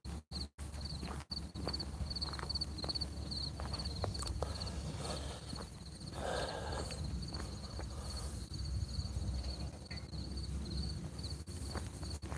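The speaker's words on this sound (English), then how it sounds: "Hope you're enjoying the crickets." Crickets chirp steadily in a cemetery, a continuous high, thin trill carrying through the whole stretch alongside scattered faint rustles and footstep-like shuffles nearby.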